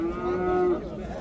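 One close moo from a young bull at a rural livestock bazaar in Chiroqchi district, a short low bellow that stops abruptly and leaves quiet background murmur.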